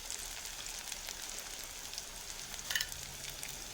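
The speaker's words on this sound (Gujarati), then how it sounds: "તો આપણે નાખીએ એમાં લીલો મરચો." Green chili sizzles as it drops into onions frying in oil until golden, a soft steady crackling hiss with a brief burst of louder spattering near the end, heard close up and alone.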